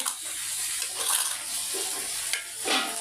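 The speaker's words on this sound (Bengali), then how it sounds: "এই তো আমি পুঁই শাক ভাজি করছি" Malabar spinach (pui shak) fries in a pan with a soft, fairly quiet sizzle, marked by a few brief stirring scrapes and splashy bursts.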